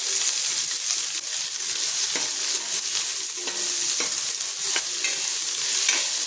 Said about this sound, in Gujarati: આપણે 2 મિનિટ જેટલું આપણે ડુંગળીને સાતળીશું